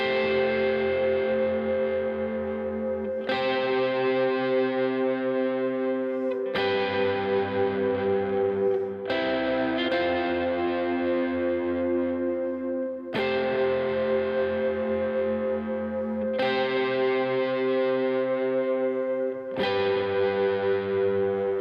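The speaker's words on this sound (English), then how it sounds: "On the chorus, we're just going to play some big chords and kind of let those ring for 4 beats each." An electric lead guitar with effects plays the Hillsong Fresh Wind chorus, six big chords each struck once and left ringing for four beats, steady and clear with no talking.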